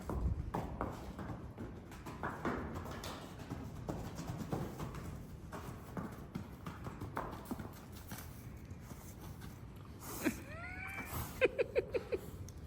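Wild horses move around a round pen, with faint hoof thuds and shuffling under a low outdoor background, and a few sharper sounds and squeals near the end.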